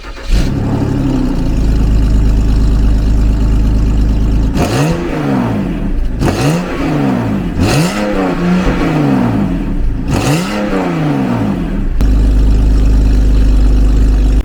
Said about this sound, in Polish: jeżeli jesteśmy w środku, odpalam samochód